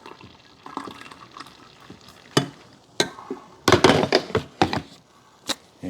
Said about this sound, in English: The carafe pours really nice.